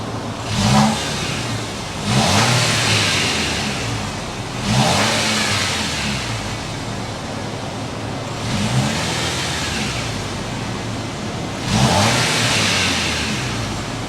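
A 2023 Lexus NX 350 F-Sport's small turbo engine is revved from inside the car, with five rising bursts of exhaust roar at a steady rhythm over a constant idle, close and loud.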